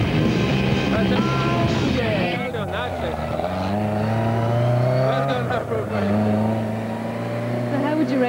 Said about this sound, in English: Okay, down to the bottom, we're going to handbrake turn to the left.